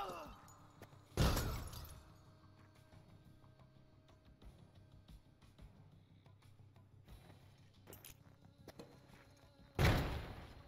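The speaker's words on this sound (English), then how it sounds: "Break the window" Glass shattering in Door Kickers 2, two sharp, loud crashes of a window breaking about eight seconds apart, with faint clatter and thuds between them.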